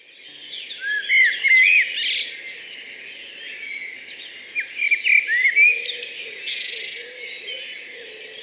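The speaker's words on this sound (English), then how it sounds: "enjoying the warm sunshine and the sounds of birds around me" Wild birds singing in a sunny Hampshire woodland: bright chirps, trills and whistled phrases come in bursts from several birds, some close and some farther off, over a low steady background hum.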